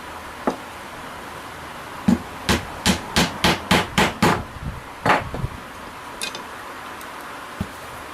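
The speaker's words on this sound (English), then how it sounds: "If I put them on the cloth and hammer them, then they'll go through just a little bit further." Glued wooden dowels are hammered through cloth, a run of about eight quick, evenly spaced sharp knocks close by, with a few scattered taps before and after.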